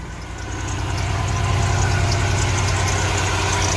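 A 1990s Chevy engine idles while warming up, a steady, close, loud low rumble with even rhythmic pulsing that rises slightly in the first second and then holds, with no talk.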